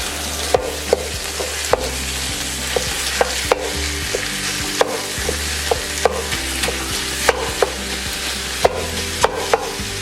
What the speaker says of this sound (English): we're going to go ahead and add in our meat. And we're going to cook this up.